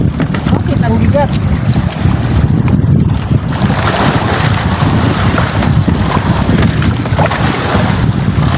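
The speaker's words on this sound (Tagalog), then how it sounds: "Lakas kasi na hangin." Strong wind buffets the microphone in a steady roar, with water sloshing and a boat's motion underneath; brief voices come through early on.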